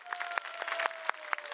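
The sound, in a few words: audience applause at a children's Lion King musical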